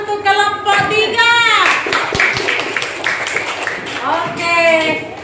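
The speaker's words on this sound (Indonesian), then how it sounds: "Tepuk tangan untuk kelompok 3." Students clap briefly for a classmate group in a primary school classroom, a short burst of hand claps between a teacher's and children's voices talking before and after.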